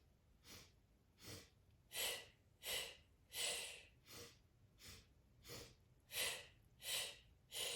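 A breathing exercise: about a dozen evenly spaced inhales and exhales, each a soft airy rush, swelling and fading in a steady rhythm, close and alone with no talk.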